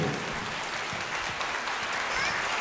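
Concert audience applauding after a performance, dense steady clapping from many hands held at an even level throughout, with faint voices mixed in.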